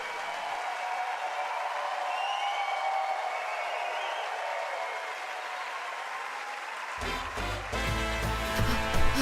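A crowd at the Ubisoft E3 2018 press conference gives a sustained wash of applause and cheering, and loud stage music cuts in near the end.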